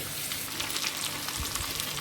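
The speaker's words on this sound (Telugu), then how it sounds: "ఈ పేస్ట్ని యాడ్ చేసినాక హైలో మాత్రం ఫ్రై చేసుకోకండి సిమ్లో పెట్టుకొని ఫ్రై చేసుకోండి" Masala paste with bitter gourd fries in a pan, giving a soft, steady sizzle with light crackling, quiet and close, with no talk.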